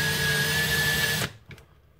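A power drill bores into a brass Nerf Retaliator breech with a loud, steady whine that cuts off abruptly, leaving a couple of faint clicks.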